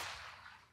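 A downloaded gunshot sound effect for a shooter game: one short, quiet burst of broadband noise that fades quickly, heard alone.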